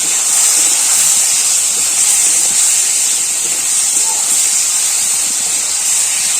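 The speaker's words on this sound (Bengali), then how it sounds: "একটু কাশ্মীরি লঙ্কার গুঁড়ো দিয়ে এটা আমি ভালো করে নাড়িয়ে নেবো" Vegetables sizzle and hiss steadily in a hot pan while being stirred with turmeric and Kashmiri chili powder, a loud continuous bright frying noise with no talking.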